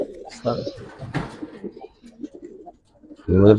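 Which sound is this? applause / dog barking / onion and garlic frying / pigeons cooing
pigeons cooing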